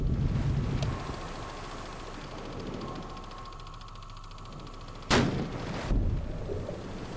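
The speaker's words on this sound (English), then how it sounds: "See the depth charge going off the back" A ship's depth charge detonates astern in the naval game Victory at Sea Atlantic, heard as two sharp, booming blasts a second apart over a steady low rumble of wind and sea.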